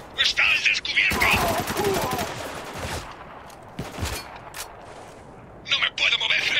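Bursts of rapid gunfire from the video game Spec Ops: The Line crackle loudly, interspersed with scattered single shots, electronic game effects and brief quieter pauses.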